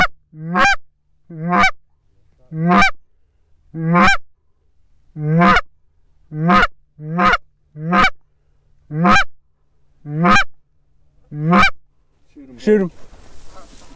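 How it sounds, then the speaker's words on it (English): Geese honking as they fly out to feed over a field, about a dozen loud, clear calls in a fairly even rhythm, close by, with a brief noisy burst at the end. "We have been seeing group after group after group after group of geese going out to feed."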